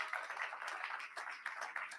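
An audience applauds with dense, steady hand clapping at a Digital Skillfest event, a continuous crowd patter throughout with no talking.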